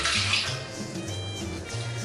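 Warm water pouring into a bowl for Colombian arepa dough, a steady close splashing stream with light gurgling.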